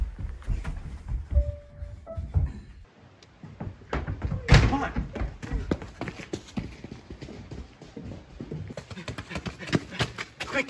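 A back door slams shut with one sharp, loud thud, amid hurried footsteps, knocks and clatter, while voices speak in a staged short-film scene.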